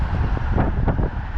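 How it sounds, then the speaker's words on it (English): Broadband wind buffeting on the microphone, a steady low rumble with gusty swells, no voices present. "It's a little windy today, so you're going to hear some wind."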